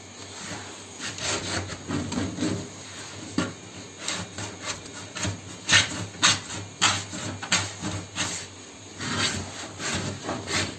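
Sunmica laminate sheet being cut into a round shape, a steady scraping, rasping sawing on wood with repeated rhythmic strokes, close and fairly loud, no voices.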